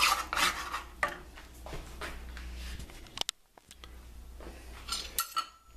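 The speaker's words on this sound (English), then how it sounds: "We're going to keep on stirring this and cooking it until it pulls away from the side." Sweet potato dauphine dough being stirred in a pan gives irregular scraping and rubbing strokes with a clink or two, a short pause midway, then more scrapes.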